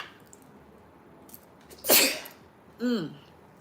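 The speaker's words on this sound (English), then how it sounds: "I sneeze." A single sharp sneeze bursts out, followed shortly by a second shorter sneeze-like burst, against quiet background.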